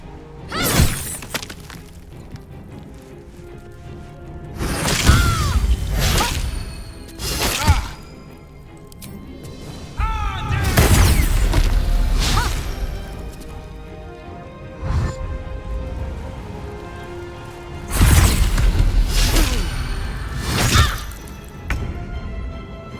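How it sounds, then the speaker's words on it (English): Exploding rats in Baldur's Gate 3 burst in a series of sharp, loud shattering blasts with whooshing debris, arriving in clusters separated by quieter gaps, close and alone without talk. "We can handle the rats. Why are they exploding?"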